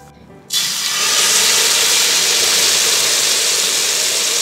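Butter hitting a hot Korean BBQ grill for beef: after a brief quiet start it bursts into a loud, steady, bright sizzle that holds without letup, close and alone.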